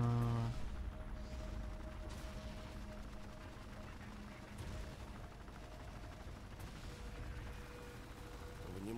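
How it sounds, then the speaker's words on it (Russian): Artillery shells pound a position in Tom Clancy's EndWar, a few heavy booms spaced over several seconds amid a continuous rumble of battle gunfire, with a voice speaking over it. "О нашей позиции бьет артиллерия."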